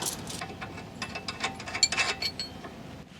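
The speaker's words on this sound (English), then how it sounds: "17mm wrench onto the back and tighten our 18mm nut on the front" A wrench ratchets in quick, uneven clicks as it tightens the front sway bar link nut on a 2008 Hyundai Elantra, with metallic rattles up close and no talking.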